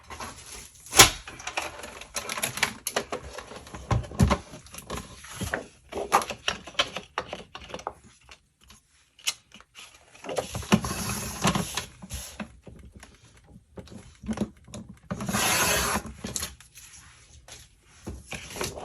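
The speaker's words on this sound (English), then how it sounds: "So let's get the pattern paper trimmed out." Paper trimmer slicing patterned scrapbook paper, heard as a series of irregular scraping cuts and clacks with brief pauses, fairly close and moderately loud.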